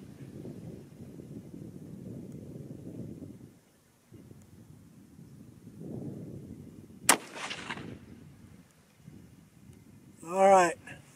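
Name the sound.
308 Winchester rifle shot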